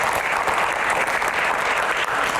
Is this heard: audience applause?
yes